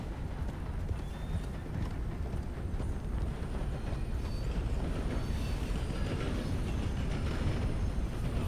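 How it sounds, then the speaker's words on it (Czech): A train rumbles past steadily in Red Dead Redemption 2, with rhythmic clacking wheels and a faint metallic squeal, continuous and fairly close, no voices. "Počkáme, až přejede vlak"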